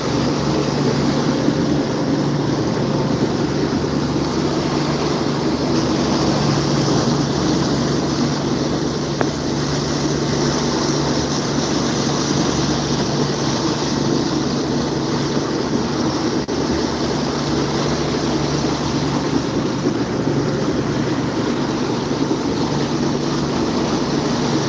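A fishing boat runs steadily offshore roughly 30 miles out on an albacore tuna trip, its engine drone continuous and loud, mixed with wind buffeting and wash of water against the hull throughout, with no talking.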